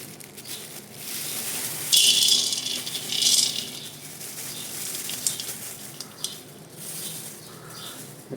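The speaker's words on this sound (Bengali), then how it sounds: "এটা হচ্ছে আউবেলগুলো একটু ভেজে নিচ্ছি।" Aubel being fried in a pan for sweet fishing bait, giving a steady close rattling sizzle with a few louder hissing surges along the way.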